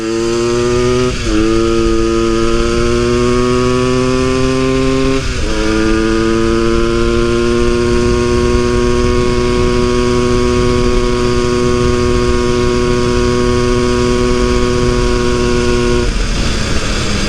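A Suzuki TS185 motorcycle with its muffler fitted makes a top speed run: a loud, sustained engine drone that dips and climbs again through two quick gear shifts, then holds a steady high pitch.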